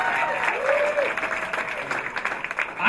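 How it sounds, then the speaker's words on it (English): Comedy club audience clapping in a short, moderate burst that thins and fades toward the end, with a brief vocal sound over it early on. "Come on, clap it up."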